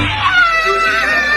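An angry cat sitting in the dark lets out a loud, drawn-out, wavering yowl at a dog, one continuous tense cry heard up close.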